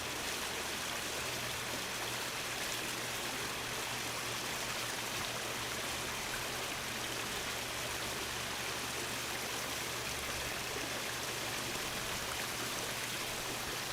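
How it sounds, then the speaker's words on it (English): A waterfall feeds a gentle stream, giving a steady, dense rushing hiss with a deeper roar underneath, constant and unbroken throughout. "And then that becomes taken over by the waterfall sound, which will be a little bit deeper, a little bit more robust."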